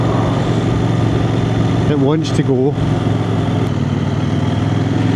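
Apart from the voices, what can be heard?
CF Moto 800NK motorcycle engine accelerating in third gear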